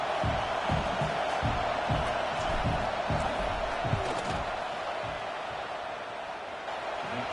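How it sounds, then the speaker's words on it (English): A large stadium crowd roars steadily ahead of a long field goal attempt at a Florida versus Notre Dame football game, a dense continuous wash of distant voices with scattered thumps and claps, no commentary over it. "This crowd trying to do its part to get inside the kicker's head."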